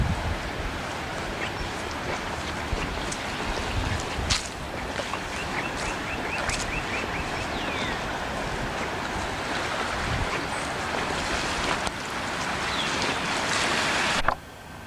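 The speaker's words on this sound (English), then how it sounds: "You see the waves coming in." Floodwater waves washing in over Duck Pond Road with floating logs and debris, a continuous broad rushing wash with occasional sharper splashes and a bump near the end, no talk.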